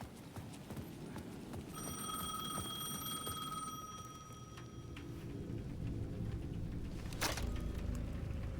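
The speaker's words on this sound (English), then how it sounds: "The payphone at the edge of the plaza was ringing again." A payphone at the edge of a plaza rings in the video game Alan Wake 2, giving a steady electronic ring for a few seconds over a dense, rumbling ambient game soundscape, followed by a sharp burst of noise.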